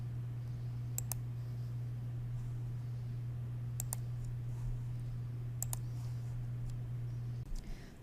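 Sharp computer mouse clicks come in three quick pairs spread evenly apart, crisp and close, over a steady low electrical hum with no talking.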